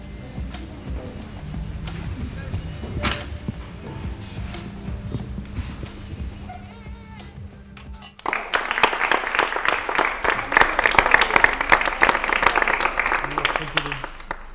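Studio audience in a television wellness programme bursts into applause, a dense, fairly loud burst of clapping that starts abruptly after a stretch of talk and continues to the end.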